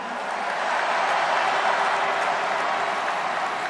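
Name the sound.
crowd applauding at party convention in Gocheok Dome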